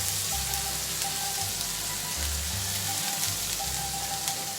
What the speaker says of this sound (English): So let it fry.